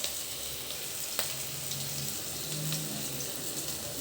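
Cumin seeds hiss and crackle softly as they hit hot oil, a steady quiet sizzle with a few small pops and no talk.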